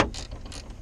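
Socket wrench ratcheting on a bolt while working on the dash of a 1966 Pontiac LeMans, a brief run of close, quick mechanical clicks.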